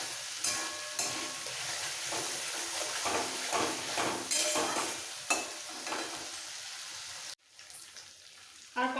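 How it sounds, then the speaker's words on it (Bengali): Spices and turmeric powder are sautéed in a pan for a fish curry, crackling in a continuous close sizzle with intermittent stirring scrapes, cutting off abruptly near the end. "হলুদ পাউডার মশলার সাথে আরোটা একটু কষিয়ে নেবো"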